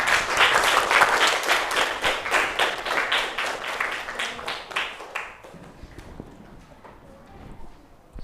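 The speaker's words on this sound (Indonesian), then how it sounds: "kasih tepuk tangan dulu untuk teman-teman" Classroom applause for fellow students, a burst of many hands clapping loudly for about five seconds, then fading into quieter room noise with a few scattered claps.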